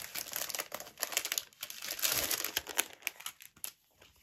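Crinkling and rustling of packaging being pulled open around a Vevor A4 die-cutting machine, a close, irregular run of crackles and crumples with brief bursts, no talking.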